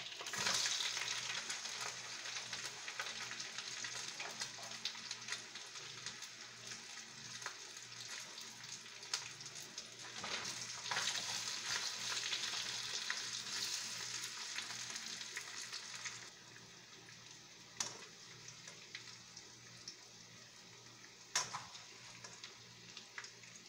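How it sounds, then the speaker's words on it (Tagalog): Potatoes and carrots frying in oil for chicken afritada, a steady crackling sizzle with occasional stirring clinks and scrapes against the pan, moderately quiet and easing somewhat near the end, with no talking. "Ipiprito rin po natin yung ating potatoes at saka yung carrots."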